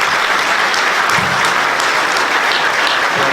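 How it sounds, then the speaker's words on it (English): A crowd at a Bucks County Hall of Fame induction claps steadily and loudly throughout, a dense, continuous wash of applause with no voices standing out. "you guys all deserve a round of applause from us"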